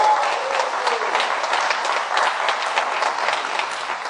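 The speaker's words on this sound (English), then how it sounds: "Let's give him another hand." An audience at a golf tournament dinner applauding, a loud, continuous wash of many hands clapping at close range with no talk over it.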